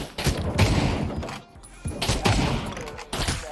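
Rapid bursts of gunfire in the VR shooter Pavlov, played in a gun-game mode on the Nuketown map, come in two loud clusters of sharp shots separated by a brief lull.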